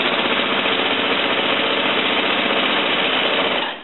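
A sewing machine with a walking foot runs steadily and loudly at close range, stitching a quarter-inch seam around a quilt in one continuous whirring burst that slows at the end.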